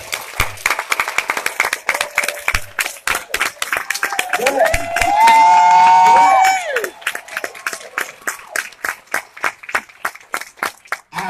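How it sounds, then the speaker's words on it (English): A room full of people clapping together in rhythmic bursts during a business networking event, with a short spoken word over it and a brief loud tonal cheer or whoop in the middle. "Everybody clap."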